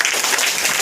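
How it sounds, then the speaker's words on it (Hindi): Brief burst of dense, close clapping from a group of children in a classroom, loud and continuous for under a second. "मांसाहारी सही बताया है, ताली मारिए।"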